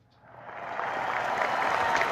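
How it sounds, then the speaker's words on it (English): Studio audience applause for a guest on a live Las Vegas betting show, rising from quiet into a full, sustained wash of clapping that swells and holds loudly. "a big round of applause for Tom Flores"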